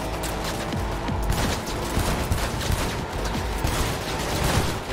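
Sustained gunfire during a drive-by in the video game Cyberpunk 2077, with dense rapid shots and mechanical clatter running throughout, loud and continuous, with no talk over it.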